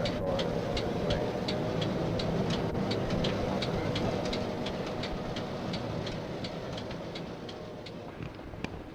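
A train rolls through a street crossing near the Topsfield Fairground in Massachusetts, a steady rumbling roar with rhythmic clicks from the wheels over rail joints, fading slightly as it continues.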